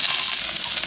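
Finely chopped scallions and two garlic cloves sizzle in hot oil in a pot, a steady, close hiss of frying with no talking.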